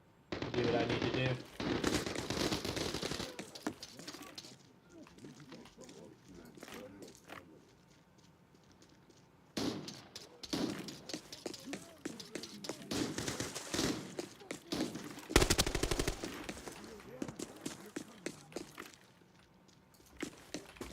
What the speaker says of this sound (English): Got the guy shooting the pistol.